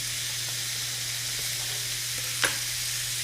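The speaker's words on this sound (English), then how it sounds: "Now I'm going to add some diced portobello mushrooms." Diced portobello mushrooms and rough-cut country ham sizzle steadily in a hot restaurant pan, a close, even frying hiss throughout with one brief sharper crackle near the end.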